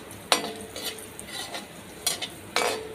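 Cumin and whole spices frying in a pan for a dry cauliflower-potato dish, heard as a steady soft sizzle with a few sharp scraping stirs of a spoon against the pan, fairly close and without voices.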